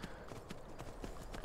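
A horse's hooves clip-clop in Skyrim, a brisk, even run of hoof strikes repeating several times a second over a dense, steady background, moderately close.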